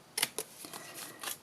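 Two sharp snips of scissors close by, followed by a few softer cutting and rustling sounds.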